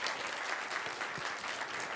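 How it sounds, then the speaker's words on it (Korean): Applause fills a church service as a congregation claps in thanks for a visiting pastor at a New Year blessing prayer meeting, a dense steady clatter of many hands lasting throughout. "우리 또 감사의 박수도 함께 이어서 우리 돌리겠습니다"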